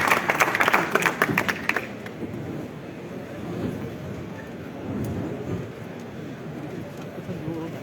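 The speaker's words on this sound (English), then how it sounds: "A huge round of applause and a warm welcome to him." Audience applause welcoming the chief guest at a jewellery show event: dense clapping for under two seconds, then fading into a low, rumbling crowd murmur.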